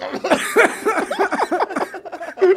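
A burst of rapid, choppy coughing mixed with breathy chuckles, a dozen or so quick bursts close to the mic.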